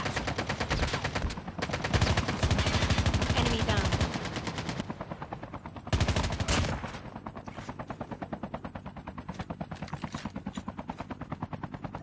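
Loud, continuous automatic gunfire fills a battle royale video game firefight against zombies, with rapid rattling bursts that are dense at first, then a sharp new volley and steady repeated shots afterward.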